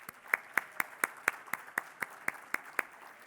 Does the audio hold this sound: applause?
yes